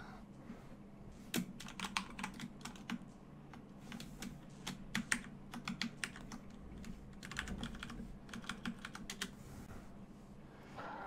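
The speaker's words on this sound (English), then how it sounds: "My keyboard is working, but the game's not letting me use my keyboard." Irregular bursts of computer keyboard typing, clicking keys in quick clusters separated by short pauses, close and clear over a low steady hum, with no talking.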